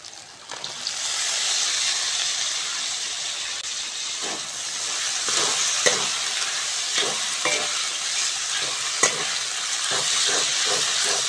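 Chopped tomato goes into a hot pan of frying ginger-garlic masala for a tuna fish curry, setting off a loud, steady hiss of sizzling with intermittent stirring scrapes close by.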